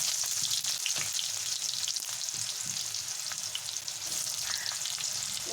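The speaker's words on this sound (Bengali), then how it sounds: "পেঁয়াজটাকে আমি ভালো করে ভেজে নেব গোল্ডেন ব্রাউন যতক্ষণ না হয়" Chopped onion frying in hot oil with whole cumin seeds, a steady broad sizzle with occasional stirring scrapes and pops, close and continuous throughout.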